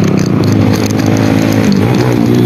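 A Yamaha NMAX scooter revs loudly on the Marilaque mountain road, its buzzing engine note holding steady and close before shifting pitch as it passes.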